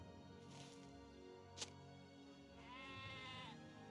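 Sheep in the fantasy online game Lord of the Rings Online bleat twice over steady background music, each call drawn out and moderately loud.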